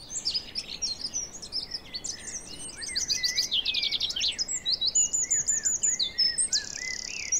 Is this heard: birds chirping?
yes